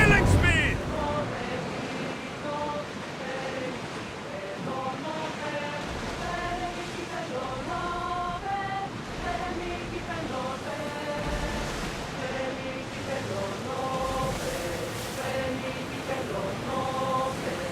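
A sailing ship cuts through the sea in Assassin's Creed Odyssey, with a steady wash of waves and wind running the whole way under a layer of tonal game music.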